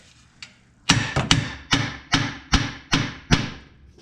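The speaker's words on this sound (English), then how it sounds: "give it a few whacks here on the side and then a couple here on the top" Hammer strikes on the stud of a rack and pinion from a 1999–2004 Ford Mustang, seven sharp metallic whacks in an uneven rhythm after a faint light tap, loud and close with no voices.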